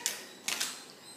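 Scissors snip into marked paper while cutting out a paper boomerang: three short, crisp cuts close by, one on its own and then a quick pair, with quiet pauses and no talking.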